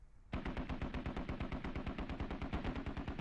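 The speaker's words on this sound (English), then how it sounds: "And the dishkas are shooting it." DShK heavy machine guns in the Squad video game open up after a brief pause, pounding out a long, steady stream of rapid, evenly spaced shots at a distance, with no voices heard.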